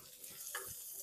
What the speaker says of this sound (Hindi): अब इसको हम फ्राई कर लेते हैं।